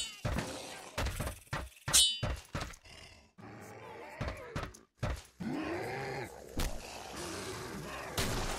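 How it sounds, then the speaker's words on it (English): Weapon handling in the shooter game Killing Floor: a run of sharp mechanical clacks, thunks and metallic snaps close up, interleaved with loud bursts and voices, busy and uneven over several seconds. "Can't you see I'm reloading?"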